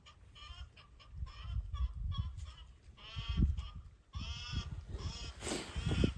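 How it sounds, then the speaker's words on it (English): Chickens cluck and squawk close by near their coop in a steady, busy chorus with a few louder calls, over low rumbling background noise. "The chickens are confused because they can't find their house."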